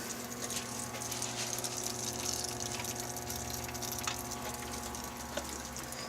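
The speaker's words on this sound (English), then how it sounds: "Turn it on. That's wet coolant." Wet coolant pouring steadily from a small 3040 CNC router's coolant line, a continuous watery rush and patter with a constant pump hum underneath, close and even throughout with no talking.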